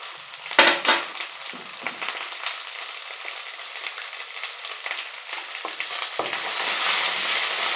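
Ivy gourd fries in a covered pan with salt and turmeric, giving a steady close sizzle and crackle that swells slightly near the end, with a few sharp pops early on.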